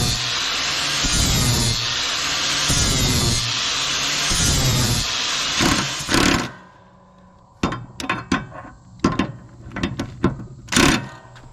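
A 4.5-inch 40 grit flap disc grinds on a Hustler 48-inch Trimstar mower, a loud continuous abrasive roar for about six seconds, then the tool winds down and a series of short sharp bursts follows as it touches the metal again.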